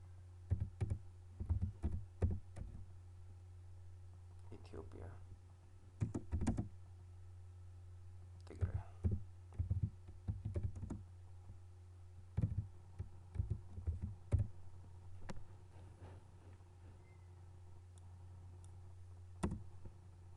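Clicking on a computer while doing study-area mapping, with faint scattered clicks and taps in small clusters over a low steady hum, some in quick pairs, near and quiet, with no speech.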